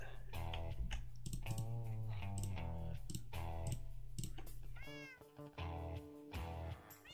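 Several cats in Minecraft meow repeatedly, their cries overlapping in quick succession and loud, with a few short clicks and pauses toward the end.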